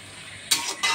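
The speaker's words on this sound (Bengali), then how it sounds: "চিনিটা ভালো করে মিক্স করে দেবো" A spoon scrapes and stirs a vegetable curry of palta leaves in a pan while sugar is mixed in, two short sizzling scrape strokes over faint frying.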